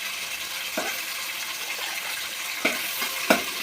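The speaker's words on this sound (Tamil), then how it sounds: "நல்லா பச்சை சுண்டைக்காய் நல்லா போட்டாச்சு. நல்லா வதக்கிக்கிடணும்." Green turkey berries sautéing in oil, a soft continuous sizzle with a few sharp stirring clicks near the end.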